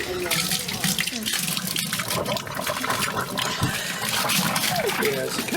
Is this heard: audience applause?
no